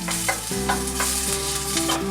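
Onion and garlic browning together in olive oil in a Maltese kitchen: a steady, close sizzle with stirring, over a low tonal hum that runs throughout.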